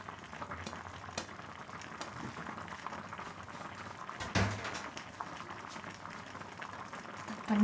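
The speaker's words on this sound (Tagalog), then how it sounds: "Ayan po, kumukulo na." A coconut milk and spinach stew with tilapia simmers in a pot, giving a steady low bubbling and faint sizzling throughout, with a brief clatter midway and a slight rise at the end.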